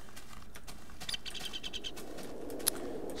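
Birds chirp and tweet in a Minecraft Technic modpack landscape, with quick repeated calls near and far, a faint patter underneath and a sharp click near the end, with no voices.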